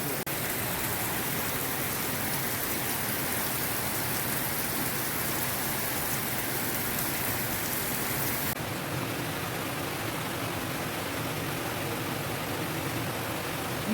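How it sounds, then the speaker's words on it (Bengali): Heavy rain pours steadily outside a window, a dense, even hiss of drops that holds unbroken for the whole stretch with no voices. "বৃষ্টির আওয়াজ দেখুন"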